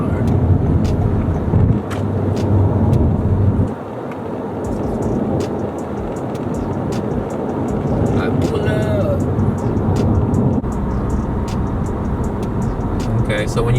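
A 2019 Toyota Camry XSE accelerates gently in eco mode, heard from inside as a moderate, steady engine and road drone that rises slowly while someone talks over it.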